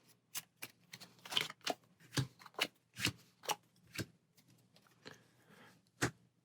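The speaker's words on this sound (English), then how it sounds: "for solo mode, we'll give this a shuffle and deal out 3 of those resources" Board game resource cards being shuffled for a solo-mode setup: a quick series of crisp, close riffling snaps and slaps in an uneven rhythm, with no talk.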